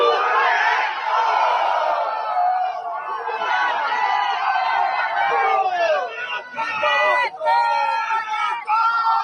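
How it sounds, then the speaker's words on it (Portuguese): Indoor gymnasium crowd at a Bolsonaro donation event shouts a chant in unison, a loud, dense wall of voices with rhythmic surges and scattered cries. "público gritando chupa Neto"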